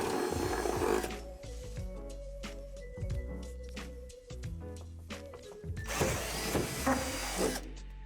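A power drill whirs in bursts, rising and falling as it bores into the wooden underside of a playset deck, with a louder grinding stretch at the start and end and brief pauses between.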